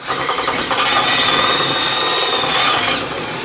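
A drill bit spins at speed as it bores through the rubber and metal of a trailing arm bush on an Alfa Romeo 105 Series, giving a steady, close, whining grind for a few seconds with no talk.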